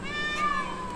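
A peacock calls in a wailing, cat-like meow that sounds part mewing cat and part crying baby, one drawn-out call lasting about a second, near and clear over a steady low background hum.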